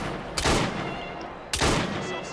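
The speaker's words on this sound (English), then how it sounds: "And I will shoot him in the head." Two sharp gunshots crack out in the video game Assassin's Creed Syndicate, the first near the start and the second about a second later, each loud and close with a short ringing tail.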